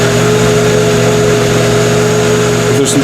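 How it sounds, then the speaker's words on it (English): A Cosori blender motor runs on its soup program, a loud, steady, close whir with a constant tonal hum throughout. "Press soup. Now it starts off low, and it's going to go to a higher speed."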